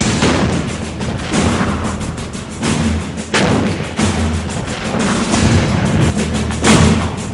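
K9 Vajra self-propelled howitzer artillery from Korea firing, heavy booming thuds repeating roughly every second within a dense, loud roar of blast noise and rumble.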